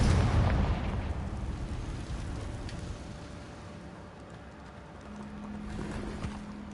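A Confringo blast spell in the Hogwarts Legacy game goes off with a loud, booming burst at the start, then a rumbling tail that fades into a low ambient hum, with a brief tonal drone later.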